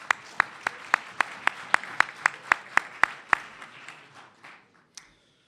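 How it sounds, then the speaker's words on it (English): Audience applause at a cybersecurity summit luncheon, starting with sharp rhythmic claps that loosen and fade over about five seconds, a single late clap near the end. "If we could give Northrop again a round of applause"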